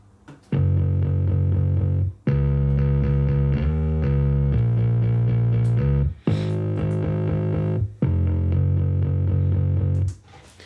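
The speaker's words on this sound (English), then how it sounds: "in the last chorus, I added distortion on the bass." A heavily distorted, buzzing bass line plays in sustained chunks with brief pauses between, loud and gritty throughout, in the last chorus of a produced song.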